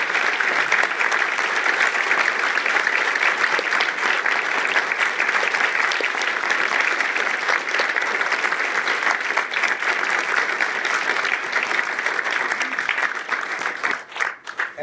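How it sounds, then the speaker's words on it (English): A large audience applauds with sustained, dense clapping that holds steady for over a dozen seconds and then trails off at the end. "Let's have one more round of applause for."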